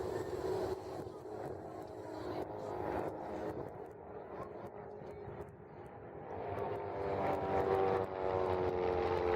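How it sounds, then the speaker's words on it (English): An RV-4 propeller aircraft flies at an airshow, a loud, continuous drone that swells and fades slightly as it passes, then rises again, with no voices over it. "Slot position, aircraft 4 and RV-4, flown by Hans Miesler."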